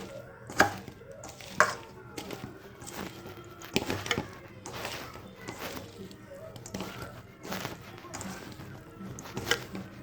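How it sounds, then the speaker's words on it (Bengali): Knife chopping chicken on a board in a simple home kitchen, a loose series of sharp thuds at uneven intervals, close and clear, with faint talk under some strokes. "চিকেনটা কুচো করে নিই।"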